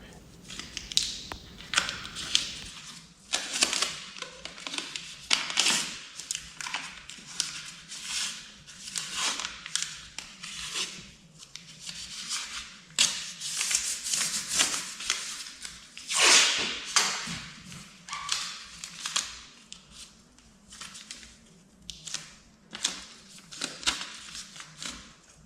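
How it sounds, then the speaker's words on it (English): Adhesive tape tearing and crinkling as a carbon fiber wheel mold is taped up, a long series of close, irregular ripping and rustling bursts with no talk. "So let me get these wheels taped up."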